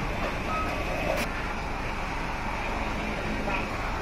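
A small blue truck passes on a city street amid steady roadside traffic rumble, with a brief beeping tone and a voice heard faintly over the continuous noise.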